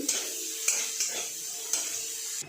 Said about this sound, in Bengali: পেঁয়াজটা লাল লাল করে ভেজে নিচ্ছি